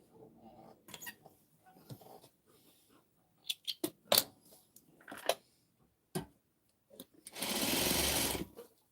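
A sewing machine stitches fabric: scattered clicks and short mechanical taps first, then a sustained, loud whirring run of rapid stitching near the end.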